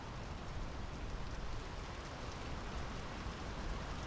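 Steady rain in the Draugen video game, a dense even hiss of falling water with no pauses, heard alone at a soft level.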